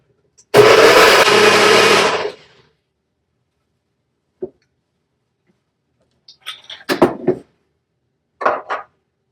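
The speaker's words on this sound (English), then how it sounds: "And we'll run the blender." A blender whirs loudly for about two seconds making a frozen slushy cocktail and stops, followed by a few faint knocks and clinks.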